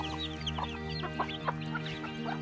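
Chickens cluck softly outdoors after rain, with scattered short clucks spaced irregularly over a faint steady background hum; the birds sound somewhat distant and no one speaks.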